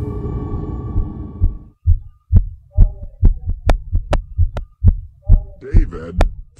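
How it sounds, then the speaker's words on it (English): Heartbeat sound effect in a gothic TV horror episode, with a dull hum fading out before a steady run of loud, close, thudding double beats that keep a regular throbbing rhythm to the end. "Follow the sound of my heartbeat."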